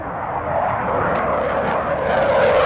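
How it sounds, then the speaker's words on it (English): An F/A-18 Super Hornet carrier-based fighter jet roars with a steady, dense, broadband engine rush that swells slightly over a few seconds, loud and continuous with no voices. "This is the F/A-18 Super Hornet, a carrier-based multi-role fighter used by the United States Navy."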